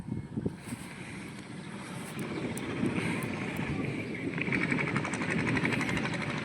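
Strong gusting wind roars steadily during a storm with rain near Rajula, buffeting the microphone with a loud, continuous broadband rush that swells after the first couple of seconds.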